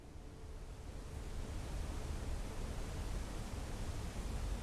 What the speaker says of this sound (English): Ooh, cool waterfall.